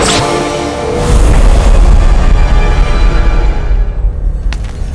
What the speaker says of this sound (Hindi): तीसरी गोली चल गई है पत्ता।